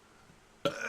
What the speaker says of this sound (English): I had to burp.